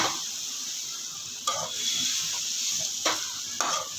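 Vermicelli frying in hot oil in a pan for a spicy curry-masala semiya, giving a steady close sizzle with a few sharper scraping stirs.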